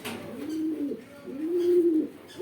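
Racing pigeons at a farm give two drawn-out, throaty coos, close and fairly loud, each swelling and fading with a short gap between them.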